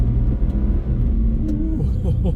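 Ford F150 pickup truck accelerating at full throttle up a steep hill with some wheelspin, a loud low engine rumble rising in pitch, steady and close.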